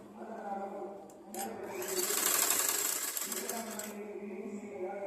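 A sewing machine stitching a blouse, a fast steady whirring run of stitches that swells in the middle, with someone talking over it.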